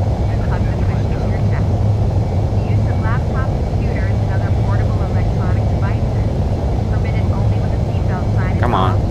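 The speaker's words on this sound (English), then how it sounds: "I'm about to take off." Airliner takeoff in a flight simulator game, a loud, steady engine roar with a low hum running throughout, and radio-style voices chirping faintly over it.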